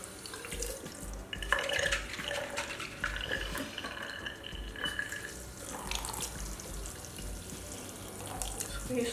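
Makeup brushes rinsed under a running tap, water splashing and pouring into a sink continuously with shifting splatter as the brushes move through the stream.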